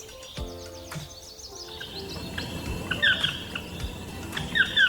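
Parrots calling in the wild Pantanal wetland, a few short, bright chirping calls at moderate distance over a steady background of insects and ambience.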